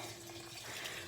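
Water runs steadily from a 275 gallon tote into a greenhouse, a continuous close rushing flow with no talk.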